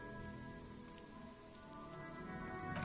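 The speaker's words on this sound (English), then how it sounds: "Rain falls down on the world." Rain falls steadily in the video game Disco Elysium, a constant dense patter on surfaces layered under a soft sustained tonal drone, with no speech.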